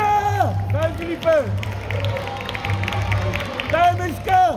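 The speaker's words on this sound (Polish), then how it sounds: "Gratulacje oczywiście i brawa dla nich" Audience clapping and cheering for couples in a youth Latin dance semi-final at the Polish championships in Katowice, steady applause under a loud announcer's voice and shouts of support, with music running underneath.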